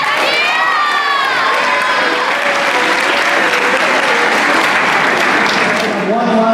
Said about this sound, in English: One last round of applause for our graduating class of 2019.